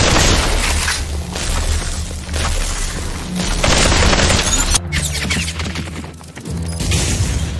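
Gunfire in Population: ONE comes in loud, heavy bursts and booming blasts, repeating in several waves with brief lulls between them, close and dominant.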